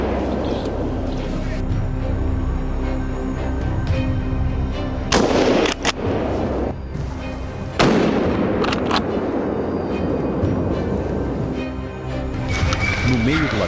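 Rifle shots ring out during a wild boar hunt in a European forest, sharp loud cracks in quick succession with echoing tails, over a busy background of voices and dogs.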